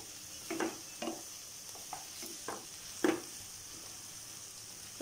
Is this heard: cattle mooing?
no